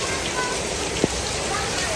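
Steady rain pours down in an even hiss, with a single brief tap partway through and no other clear sounds.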